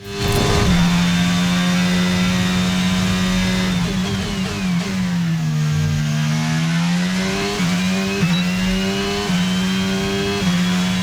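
F1 car engine in the F1 22 racing game, a loud sustained high-pitched whine that rises and falls through gear shifts and revs, with exhaust tone layered over it.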